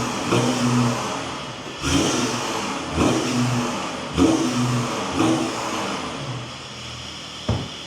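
A straight-piped Audi 3.0 TDI diesel engine revs repeatedly while stationary with the bonnet shut, five or six sharp, loud blips in a steady rhythm separated by rough idle, close by and with no talking.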